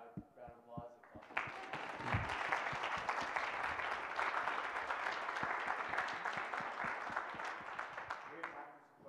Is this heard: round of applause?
yes